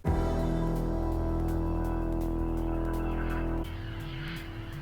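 A track plays, a fast, loud, pulsing synthesizer sequence over a sustained drone that shifts midway into a rushing, engine-like swell.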